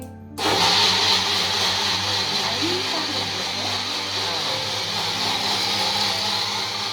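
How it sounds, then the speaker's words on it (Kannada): A kitchen mixer grinder starts up and whirs steadily, grinding five ingredients with water for Mangalorean Adaka Mavina Gojju; the loud, even motor drone runs for several seconds after a sudden start. "ಈಗ ಇದನ್ನ ರುಬ್ಬೇಕು."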